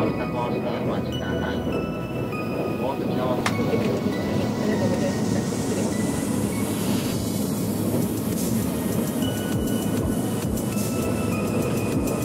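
A passenger train heading toward Mount Fuji rumbles steadily from inside the carriage, a loud continuous roar with faint rail clatter throughout, no clear voices.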